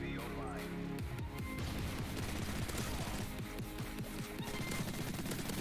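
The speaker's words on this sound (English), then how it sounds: "Power of a silencer, guys." Rapid suppressed gunfire from a silenced weapon in a first-person shooter video game, dense bursts of muffled shots under continuous game noise and explosions.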